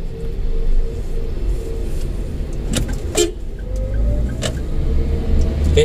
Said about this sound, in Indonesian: Tapi mesinnya sangat menggereng